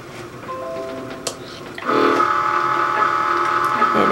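A Cricut Maker cutting machine starts up with a soft tonal whine, then settles into a louder, steady mechanical whir with a few clicks, heard up close and alone with no talking.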